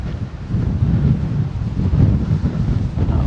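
Strong wind blowing steadily across the island in a tourist town, a loud continuous low roar buffeting the microphone, gusting slightly throughout with no voices.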